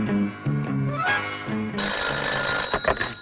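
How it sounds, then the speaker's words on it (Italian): Cartoon telephone bell ringing in a detective's office, loud and continuous with a bright metallic trill over a musical background. "Il telefono, capo."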